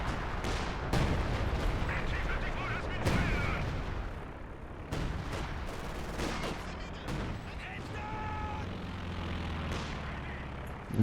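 An artillery barrage in a real-time strategy war game, repeated heavy thuds and bursts landing over several seconds, some near and some distant, with rumbling echoes and other battle sounds.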